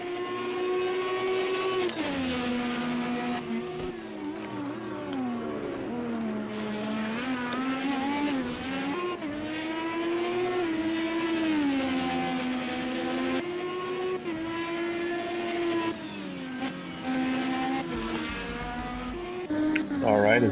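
An IndyCar racing engine at Laguna Seca in a racing video game whines through rising and falling revs as the car accelerates and shifts, under steady commentary.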